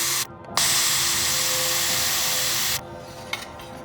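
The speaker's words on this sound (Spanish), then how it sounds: "Volvemos a pulir las soldaduras." A small power tool polishes soldered joints on a thin copper capillary tube for a homemade refrigeration circuit, giving a loud, steady high-pitched whir for a couple of seconds before cutting out.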